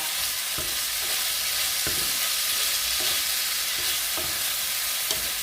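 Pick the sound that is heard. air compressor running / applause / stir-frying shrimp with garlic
stir-frying shrimp with garlic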